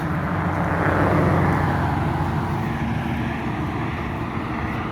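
Road traffic in Winter Park, Florida, near Orlando, gives a continuous broadband roar of passing vehicles, loud and close, swelling slightly early on then holding steady.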